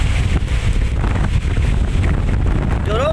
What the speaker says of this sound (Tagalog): Napakalakas na po ang hangin o.